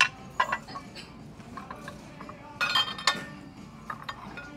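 Pieces of clear glass clink together during digging, with scattered light taps and a few brighter clusters of clinks against a quiet background.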